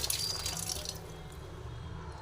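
Water splashing and running as water apples are rinsed under a tap, a bright spatter in the first second that settles into a softer, steady trickle with no talk.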